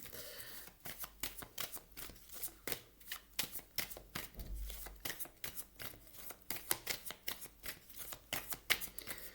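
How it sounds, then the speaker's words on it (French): Tarot card decks being shuffled up close, a rapid run of crisp riffling flaps and soft slaps repeating steadily throughout, with no talking. "Je remélange bien mes jeux pour vous, groupe numéro 1."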